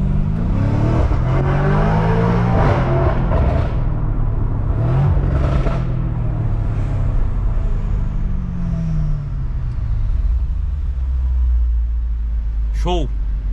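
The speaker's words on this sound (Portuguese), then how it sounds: "Só de colocar no Sport Plus aqui, eu ia dar uma acelerada no câmbio" A BMW M5 engine revs repeatedly in Sport Plus mode, rising and falling in pitch, loud and close, with a deep rumble settling into a steady idle near the end.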